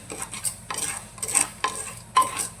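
Black chickpeas being stirred in hot salt inside a pressure cooker on a gas flame, a metal spoon scraping and clinking against the pot in several distinct rhythmic strokes, close and clear with no talking.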